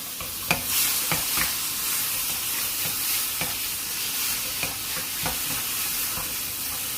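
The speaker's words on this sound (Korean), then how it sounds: "살짝 볶고 준비해 놓은 굴 150g을 넣고 같이 볶아줍니다." Oysters stir-fried in a pot for a winter seaweed and oyster soup, giving a steady close sizzle broken by sharp scraping clicks of the spatula at an uneven rhythm, with no voices.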